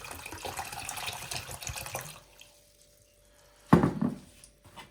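Water pours steadily into a bowl for a couple of seconds, then stops; after a pause a louder splash and clatter follow. About a litre of water is being added for pickling cucumbers in brine.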